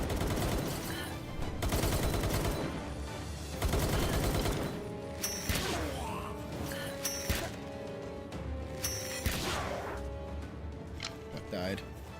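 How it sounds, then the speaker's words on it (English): Gunfire aimed at the player in the game Atlyss comes in rapid bursts and volleys, loud and dense early, then sparser shots and clatter later. "Who's shooting at me?"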